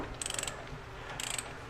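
DeWalt 12V cordless ratchet turned by hand, two short bursts of quick metallic clicking about a second apart, close and quiet, with no talk.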